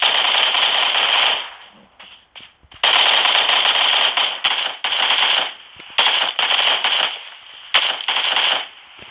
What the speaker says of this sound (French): Tu sais qu'ils me tirent dessus là.